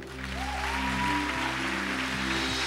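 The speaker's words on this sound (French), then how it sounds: "Est-ce qu'on peut encore les applaudir?" Steady applause from a congregation at a church baptism celebration, broad and continuous over a low sustained hum, with a faint tonal sweep passing through.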